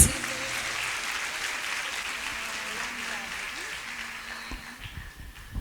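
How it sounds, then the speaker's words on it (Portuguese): Congregation applauding at a women's church conference, a broad sustained wash of clapping from a large gathering that slowly fades, with voices faintly underneath. "vamos aplaudir Jesus"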